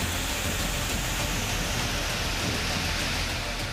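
Steady, heavy rainfall over flooded ground in Karnataka during a storm, a dense continuous hiss without breaks, loud and close, with no voices.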